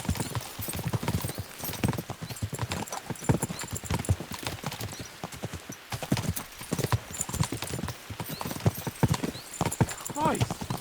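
Horses' hooves clip-clop steadily in the medieval video game Kingdom Come: Deliverance II as riders travel, with an occasional whinny, under almost continuous talking between characters.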